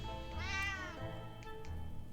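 A cat meows once in the survival video game 60 Seconds, a clear drawn-out meow over a low background hum, followed by faint soft sounds.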